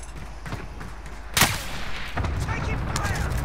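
Sniper rifle fire in an online shooter game: one sharp, loud, close crack stands out midway, with fainter distant shots before it and busy game noise rumbling afterward.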